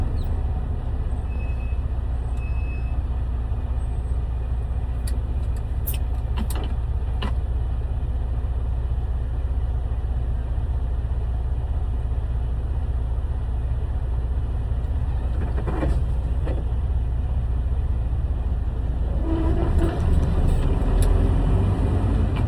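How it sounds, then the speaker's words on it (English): A 10-speed semi truck's diesel engine drones and rumbles loudly and steadily from inside the cab as gears are floated, with faint clicks and a swell of revving near the end. "Just stop the gas pedal just a little bit, and then you rev it again, push it back in gear."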